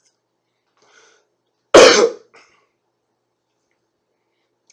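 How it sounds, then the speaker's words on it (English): A single harsh cough bursts out loud and close in an otherwise quiet room, followed by a faint throat sound and silence. "Forgive me, children, for coughing."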